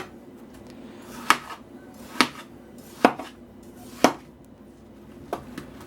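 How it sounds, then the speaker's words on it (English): Five sharp knife chops through watermelon flesh onto a cutting board, spaced about a second apart with a fainter final cut, close and clear over quiet room tone. "we're just going to cube this watermelon up"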